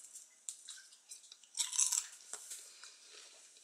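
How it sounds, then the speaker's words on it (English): Close, crisp crunching from bites into brittle fried plantain chips, irregular snaps and crackles with no talking. "Can hear how crunchy it is and it's delicious."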